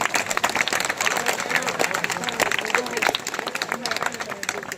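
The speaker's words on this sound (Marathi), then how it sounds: "टाळ्या टाळ्या वाजवा त्यांच्यासाठी." Steady applause from a crowd, dense and continuous clapping with a busy murmur of voices underneath throughout.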